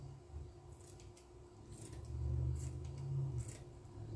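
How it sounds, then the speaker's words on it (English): Scissors snipping through craft material for a scarecrow wreath, several soft, brief cuts spaced about a second apart over a quiet low hum. "try to use good scissors"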